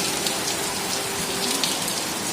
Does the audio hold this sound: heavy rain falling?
yes